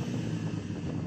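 BMW M3 engine droning steadily at close range with a dense low rumble, likely building revs, heavy and continuous with no speech.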